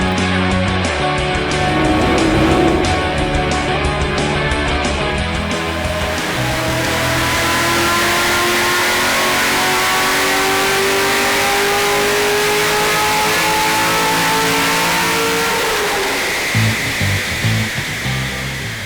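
Corvette C6 Z06 with an LS7 V8 and FAST LSXR intake manifold revs up hard on a dynamometer, a loud roaring pull climbing steadily in pitch for many seconds before the throttle is released and the engine drops back.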